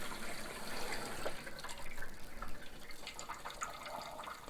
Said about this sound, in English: I'm just letting a few drips of water come out of the hose